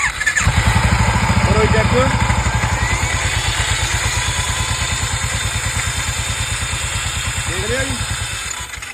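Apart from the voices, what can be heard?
Royal Enfield Bullet Classic 350 engine starting and idling noisily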